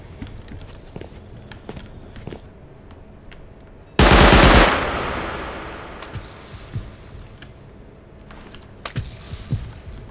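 A burst of rapid automatic gunfire rings out in Rust as a turret is shot at, a loud dense volley lasting under a second that fades into echo, surrounded by quiet footsteps and faint clicks.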